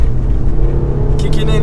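An Audi A3 1.8T with 180,000 miles revs and accelerates in second gear, a loud, close, steady engine drone building in pitch, with a voice speaking over it.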